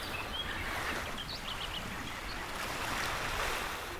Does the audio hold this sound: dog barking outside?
no